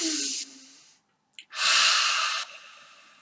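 A calm person doing an anxiety-relief breathing exercise: a long, loud breath, a short pause with a faint click, then a second long, deep breath, close to the microphone with no talking.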